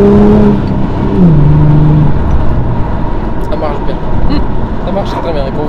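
A Ford Mustang carrying four occupants accelerates, its engine note rising and shifting as it pulls hard, heard from inside the car with a person talking over the steady road roar.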